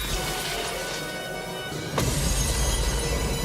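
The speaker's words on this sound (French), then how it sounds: "lui arrache la tête et sa tête explose en 1000 morceaux." A frozen head shatters in a film sound effect: a sudden loud crash about two seconds in, bursting into a dense, lingering spray of breaking fragments over a steady low background.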